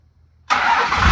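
A 12 valve Dodge Cummins diesel engine cranks and catches after a brief quiet moment, then roars into a loud, steady, rough rumble close by.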